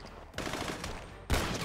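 Gunfire in GTA 5 during a roleplay shootout with police, a dense broadband burst of shots, a brief lull, then another loud burst near the end.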